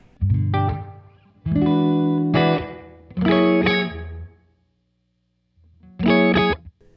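Guitar chords ring out through the reverb of a Keeley DDR drive-delay-reverb pedal in four separate bursts, each tail washing out before a short silence.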